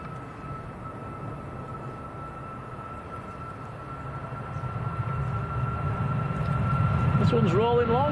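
A heavy TUI airliner bound for Sharm el Sheikh on a long takeoff roll at Manchester Airport, a low engine rumble swelling steadily toward the end, with a voice talking over it.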